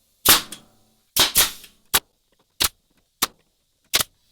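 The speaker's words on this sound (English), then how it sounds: "Now I'm just going to use the air-powered staple gun and connect this into a frame." An air-powered staple gun fires into a wooden frame, producing sharp pneumatic bangs with short hisses of air, first in close pairs and then as single spaced shots, loud and near with no talking.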